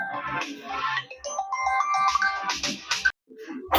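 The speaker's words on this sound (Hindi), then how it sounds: "कहां से फोन आ गया हो?" A phone ringtone plays in a classroom setting during a Class 10 maths lesson, a bright repeating electronic melody sounding clearly and fairly loud on its own, with a brief pause near the end before it resumes.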